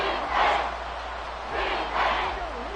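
Football stadium crowd roaring ahead of a big third down, swelling in two loud waves of cheering and yelling from a large distant mass of fans, with a voice speaking over the noise.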